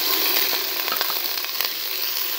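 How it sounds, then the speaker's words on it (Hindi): Onions fry in a pan until golden, giving a loud, steady sizzle with small crackles and occasional scraping stirs, close up and without talk. "ये जो प्याज की भुनाई मैं कर रही हूँ थोड़ा सा गोल्डन हो जाए"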